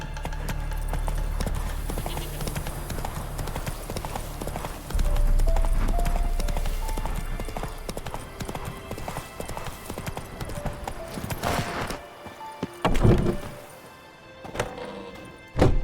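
In The Witcher 3, a horse gallops with loud, rapid, rhythmic clip-clop hoofbeats, followed by scattered thuds and knocks, and a voice speaks briefly.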